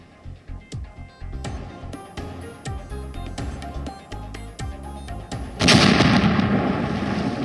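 Bombing and gunfire in Ukraine: rapid sharp bangs and heavy thuds repeat in quick bursts, then a loud blast swells into a broad roaring rumble that carries on to the end.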